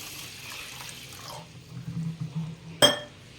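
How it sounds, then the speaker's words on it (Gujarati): Water is poured gently over fenugreek seeds, a soft, close trickle that swells briefly and is followed by a single sharp click of a container. "આપણે મેથીમાં પણ પાણી આ રીતના રેડી દઈશું."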